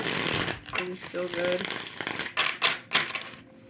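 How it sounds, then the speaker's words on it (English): Quick bursts of riffling cards, several short crisp shuffles near the mic, with a person talking over the start. "I love the way these cards shuffle."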